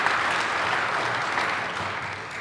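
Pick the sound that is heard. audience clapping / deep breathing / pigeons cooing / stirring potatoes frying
audience clapping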